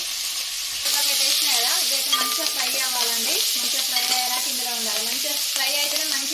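Curry leaves sizzling and crackling in hot oil in a pan while a spoon stirs them steadily, a loud continuous frying hiss with scraping stirs and a few faint voice traces underneath.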